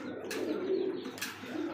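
Black-lace satin pigeons coo in a low, continuous rolling murmur close by, with a couple of brief brighter rustles or flutters cutting through; no one speaks.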